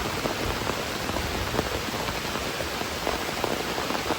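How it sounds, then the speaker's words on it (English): Heavy rain pours down steadily on a camper van, a dense, continuous hiss of drops drumming on a surface with occasional louder splashes, close and unbroken throughout. "It is raining very hard, getting windy, and it is coming down."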